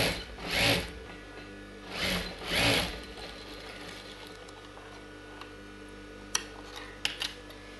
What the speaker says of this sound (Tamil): ஷோல்டர் வந்து டபுள் தையல் போட்டுக்கலாம்.